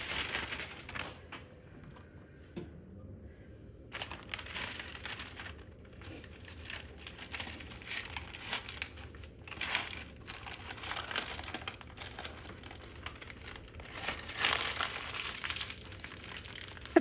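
Butter paper crinkles and rustles in a home kitchen during Ramadan iftar preparation, a steady run of soft crackling and crumpling handled close by for the whole stretch, with no talk.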